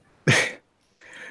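A man getting over a cold gives a sharp, loud cough, then a quieter, raspier cough or throat-clear a moment later.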